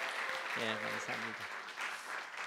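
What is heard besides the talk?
congregation applause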